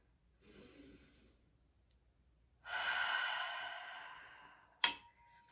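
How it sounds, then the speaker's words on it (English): A deep breath drawn in, then released, during a calm guided relaxation session; a soft breath first, then a long, louder, airy inhale close to the microphone, ending in a sharp brief sound. "So I want you to go ahead and take a deep breath in."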